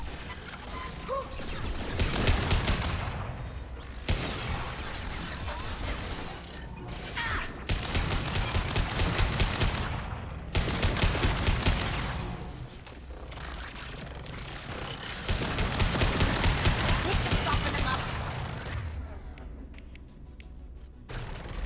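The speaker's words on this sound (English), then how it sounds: "Firing a high-impact shot!" Gunfire in Mass Effect 2 comes in long, harsh mechanical bursts separated by short pauses, loud and close with a rattling, grinding texture.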